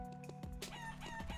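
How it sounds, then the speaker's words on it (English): Chickens clucking and a rooster crowing in the video game Eternal Return, several loud, close bird calls in quick succession over a steady game background with no speech. "Gotta look to take some chickens as well."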